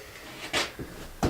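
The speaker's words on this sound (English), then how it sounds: "close that door up right there." A door in a small parts room swings shut, giving a couple of soft knocks and a final firmer thud over quiet room tone, with no talk.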